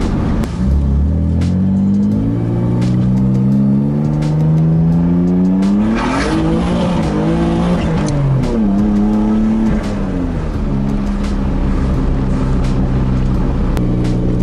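A car driven on the road while being tested for a strong vibration after carrier bearing and driveshaft work, its engine note rising and falling steadily through gear changes, loud and close throughout with no talking.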